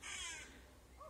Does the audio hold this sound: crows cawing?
yes